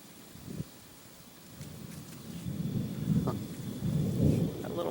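Thunder rolling in from a Texas lightning storm with no rain falling, starting quiet with a brief knock, then a deep low rumble that swells and lingers in the distance.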